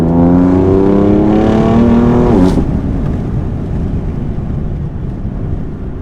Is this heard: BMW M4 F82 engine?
yes